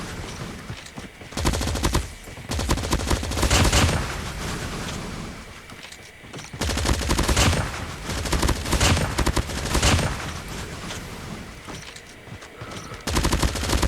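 AK117 fire in the mobile shooter Call of Duty Mobile: loud bursts of rapid automatic gunfire separated by short quiet gaps, with sustained rattling strings of shots and no talking.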